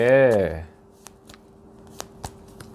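Tarot cards being shuffled and laid out, a few short crisp card flicks and slaps spaced apart after a brief spoken word at the start.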